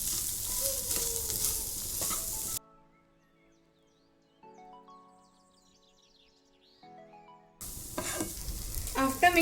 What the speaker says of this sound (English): Mix all the masalas with the corn.